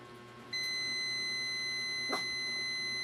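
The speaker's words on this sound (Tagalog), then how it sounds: "Pag buzzer mode, tumunog." A digital multimeter in buzzer mode gives one steady, continuous electronic tone that starts sharply and holds at moderate level, with a brief click partway through.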